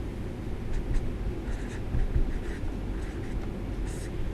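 Marker or chalk strokes on a classroom board as a differentiation result is written out, steady scratchy scraping in short bursts under a low background hum, close and moderately loud.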